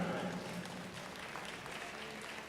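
Steady applause from a crowd at a 4-H junior livestock show beef showmanship event, fairly even throughout with no clear breaks, moderately loud.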